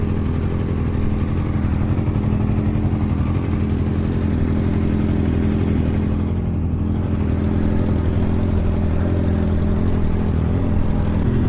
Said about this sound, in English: Can't even talk because how loud his bike is.